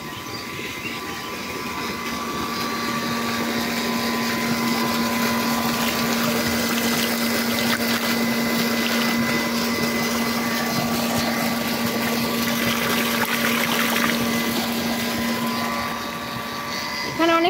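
A pump drones steadily at a fish pond, pulling water from one side and dumping it on the other, its loud constant hum joined by rushing, splashing water throughout.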